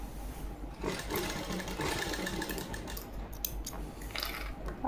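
A sewing machine stitching a Punjabi suit, running with a steady fast mechanical whir and faint ticking over several seconds, fairly close but quiet.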